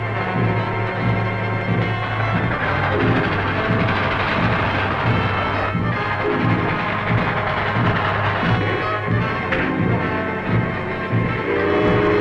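A train sound effect from an old radio drama: a loud, continuous rumble of rolling rail cars with a sustained horn-like tone throughout, close and steady with no voices.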